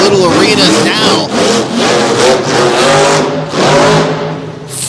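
Monster truck Toxic revs its engine in a small arena at a Salisbury monster truck event, a loud roaring engine rising and falling in repeated surges, with an announcer talking over it.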